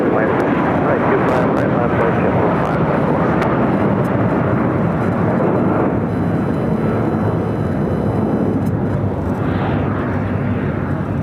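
Airliner taking off from runway 25 right at LAX, a steady loud broadband roar lasting throughout, with radio-style talk layered over it.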